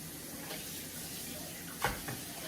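Tap water running steadily into a kitchen sink while food is rinsed, a close continuous hiss and splash with one brief louder knock partway through.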